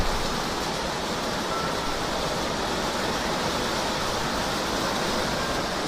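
Dense, unbroken roar of heavy rain drumming on an insulated metal roof, loud and steady throughout with no voices.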